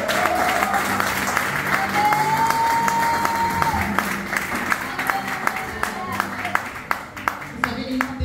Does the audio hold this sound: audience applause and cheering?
yes